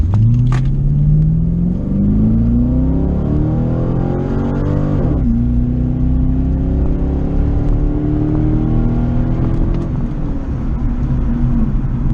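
An automatic C5 Corvette launches on a 1/8-mile drag strip, its engine revving hard through rising gear sweeps with a shift near five seconds, loud and close, continuing to pull strongly to the end.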